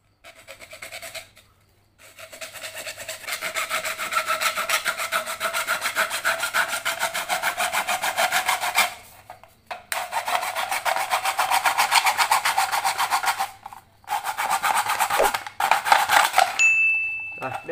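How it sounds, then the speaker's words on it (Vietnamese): Steady back-and-forth rasp of a hand saw cutting through plastic pipe, close and loud, with brief pauses between strokes. "Tiếp theo chúng ta sẽ cưa."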